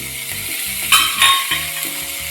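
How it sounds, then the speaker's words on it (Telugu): Prawn fry sizzles steadily in a pan while a spatula stirs it, giving a few louder scraping strokes over the continuous crackle, close and alone with no talk. "ఒక 10 నిమిషాలు వేగాలండి. ఇలా పొడి పొడి వస్తే నీకు కర్రీ బాగుంటుందండి. బాగా ఫ్రై అయిపోవాలి."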